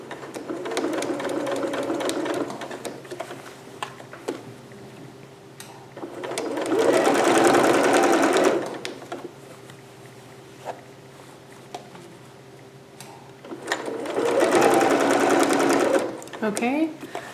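Sewing machine stitching a thick velvet shoulder seam, two long bursts of rapid, whirring needle rattle with slower stitches and pauses between, while a person talks over the quieter stretches.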